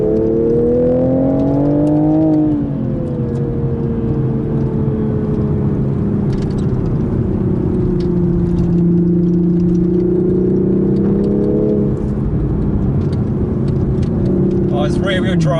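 A 2021 Toyota GR Supra GTS sports car with a 3-liter turbocharged inline-six drives along with a loud, steady engine drone. The pitch climbs, eases and climbs again through the revs, with a few faint clicks from inside the car.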